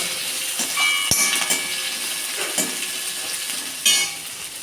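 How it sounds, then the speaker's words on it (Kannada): Chopped onion fries in a pan for broccoli Manchurian, a steady close sizzle and hiss with a few sharp clinks of a spoon against the pan, including one near the start and a louder scrape toward the end. "ಇನ್ನು ಕಟ್ ಮಾಡಿಕೊಂಡಂತಹ ಆನಿಯನ್, ಇದನ್ನು ಫ್ರೈ ಮಾಡುವ"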